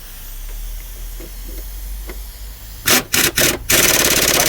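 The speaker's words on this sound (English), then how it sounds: "get them bolts in, and then whiz them up with the old gun." An air impact gun tightens engine mount bolts on a Peugeot Partner 1.9 diesel, giving three short loud bursts followed by a longer sustained rattle after a quiet workshop lull.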